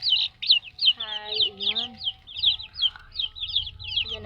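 Chickens and roosters in a backyard coop cluck and squawk in quick repeated calls, with a soft voice greeting them and a brief low warbling call partway through.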